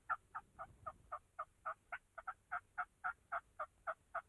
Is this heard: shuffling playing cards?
no